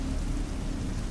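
Heavy rain in a thunderstorm, a loud, dense, continuous wash of rainfall with a deep rumbling low end, steady throughout.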